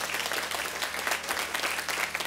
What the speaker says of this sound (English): give our graduates a tremendous round of applause